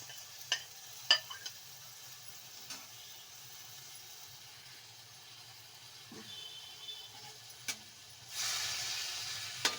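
A spoon stirring kashi greens palya with grated coconut and coriander in a pan: sparse scattered scrapes and taps over a low background, then a steady sizzling hiss near the end.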